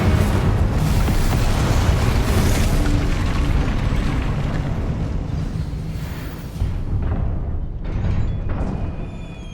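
Spell blasts and fiery bursts in Hogwarts Legacy, the Confringo explosive spell and Incendio fire spell, form a dense, loud rumbling barrage of booms and crackles lasting throughout, easing slightly near the end.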